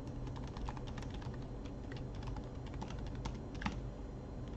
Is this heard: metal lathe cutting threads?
no